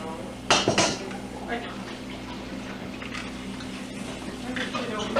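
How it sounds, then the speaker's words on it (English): A whisk clatters against a bowl as six eggs are mixed, a sharp burst of metal-on-bowl clinks followed by softer scraping and tapping, with a faint room hum and background talk. "And then I'll mix them up good with a whisk."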